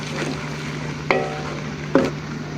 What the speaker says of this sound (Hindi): अब हम इसमें साबुत गरम मसाला डाल देंगे। एक मिनट तक हम चम्मच चलाएंगे।